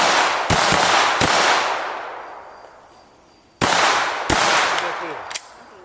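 Two sharp pistol shots crack at a range target, each followed by a long fading echo, with brief clanks after the shots; no one talks during the shots.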